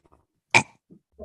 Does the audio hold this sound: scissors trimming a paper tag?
no